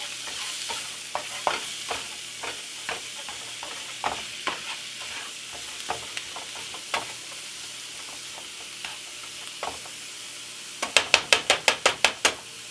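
Zucchini lasagna filling simmers and sizzles in a pan with a steady soft hiss, broken by occasional spoon scrapes and taps, then a quick run of sharp metallic clinks near the end.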